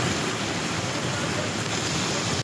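Heavy rain pours steadily during a downpour in the mountains of southern Taiwan, a dense, continuous hiss that stays loud and even throughout, with no voices over it.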